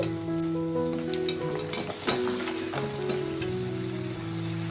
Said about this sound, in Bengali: এখন আমি খাসির মাংসটাকে দিয়ে দেব।